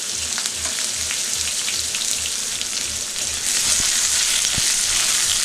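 Dry red chillies, bay leaf, cloves, cardamom, cinnamon and chopped onion frying in hot oil: a close, continuous crackling sizzle with faint scrapes that swells a little louder toward the end, no voices.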